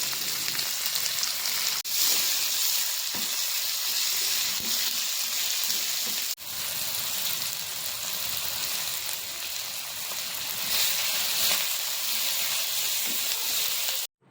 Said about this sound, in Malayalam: ഇനി ഇതൊന്ന് നല്ലൊന്ന് വഴറ്റിയെടുക്കാം.